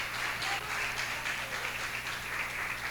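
A church congregation applauds loudly at a service, a dense, steady wash of clapping hands that fills the whole moment without a pause.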